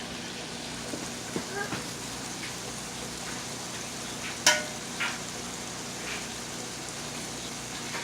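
Brown rice frying in a skillet gives a steady, soft sizzle with a few light clicks and scrapes as it is stirred, while a person talks over it.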